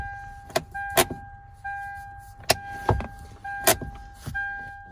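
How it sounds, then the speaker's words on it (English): Parking brake ratchet on a Lexus GX470 clicks in a series of sharp, close clicks at an irregular rhythm, with a faint steady tonal hum behind them and no talking. "You see, now it stays and you can hear the ratchet."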